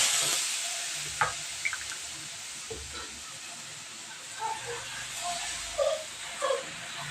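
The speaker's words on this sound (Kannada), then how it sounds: "ಇವಾಗ ದೋಸೆ ಹಾಕ್ತೀನಿ" Fermented dosa batter sizzles on a hot pan, a steady soft hiss with occasional small crackles and light utensil sounds, fairly quiet and close.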